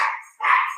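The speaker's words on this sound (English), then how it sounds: "that's my dog, y'all" A pet dog gives two quick, loud barks close to the microphone with a short gap between them, with no voices.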